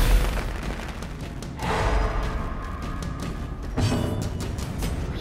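Grenade explosion in the video game Darkest Dungeon: a muffled boom swells near the start and a second blast hits later, both under a continuous bed of game music and effects.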